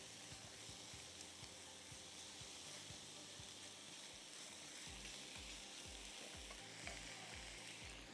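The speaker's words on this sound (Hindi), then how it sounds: "ये गार्लिक पेस्ट मिल करना है। इस तरह सॉटे करिए।" Garlic paste sautés in a pan with a constant low sizzle while a spoon scrapes through it in regular, rhythmic strokes, all fairly quiet and close.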